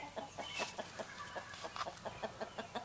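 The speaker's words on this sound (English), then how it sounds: "there's a bunch of chickens here" A flock of chickens clucks softly in a backyard garden, giving faint, irregular rhythmic calls with no voices heard.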